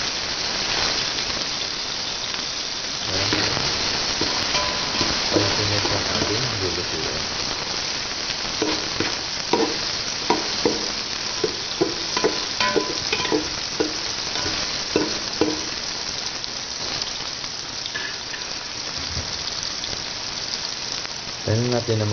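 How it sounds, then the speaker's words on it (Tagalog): Onion frying in a pan at home, a dense continuous sizzle with scattered spoon-stirring clicks and pops, with intermittent talking over the hiss. "Then, next is ilalagay natin yung ating onion."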